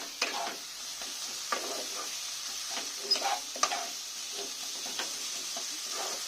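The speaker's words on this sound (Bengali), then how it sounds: "মশলাগুলো কষে নেব" Spices and ground green chilli paste sauté for mutton gravy, a soft constant sizzle with occasional light stirring scrapes, close but fairly quiet.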